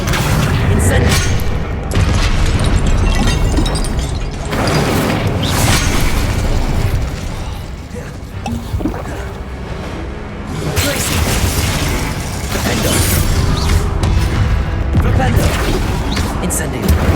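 The Incendio fire spell is cast repeatedly in the Hogwarts Legacy video game, producing loud, dense bursts of booming blasts and crackling fire that run almost continuously with short lulls.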